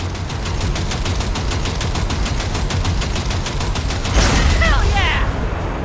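Rapid automatic gunfire rings out in Cyberpunk 2077 as shots are fired at a moving train's coupler, a steady stream of bursts that swells into a louder crash near the end, with voices under the shooting.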